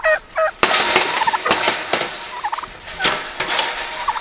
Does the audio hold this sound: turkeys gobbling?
yes